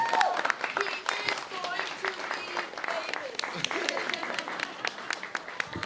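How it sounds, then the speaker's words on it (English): An audience at an event applauds, standing up after a speech, with a lively spread of sharp individual claps and voices chattering through the clapping. "Let's stand and give him a round."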